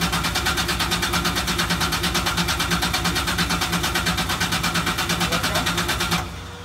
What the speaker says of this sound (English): you want to hear the engine just crank until we have oil PSI at around 20